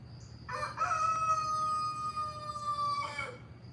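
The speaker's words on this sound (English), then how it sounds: "You might get to hear some new chicken crow this morning" A rooster in a backyard chicken coop crows once, a loud multi-part call held for a few seconds and heard fairly close over a quiet low hum.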